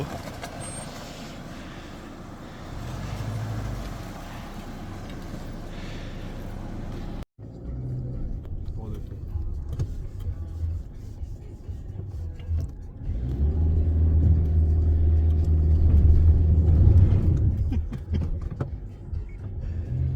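An ATV four-wheeler engine idles and revs in bursts, rising to a louder, sustained rev near the end, heard fairly close and alone throughout.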